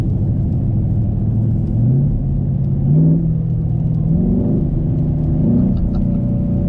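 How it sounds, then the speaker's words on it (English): A twin-turbocharged new daily-driven car makes a half-throttle acceleration pull with a downshift: a loud, steady engine rumble from inside the cabin whose pitch rises, drops at the shift, and climbs again. "So this is about just a little half throttle pull"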